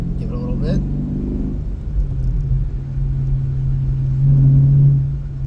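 Dodge Challenger climbing a hill on the gas at around 40 mph, with a steady low engine drone and road rumble that swells briefly near the end; a voice is heard at the start.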